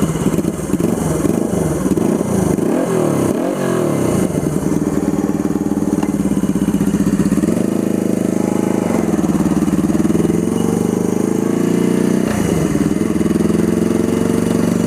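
A turbocharged Suzuki GS400 scrambler motorcycle engine runs steadily and loudly, with clattery idling that shifts into higher-pitched revving as the engine climbs. No voices over it.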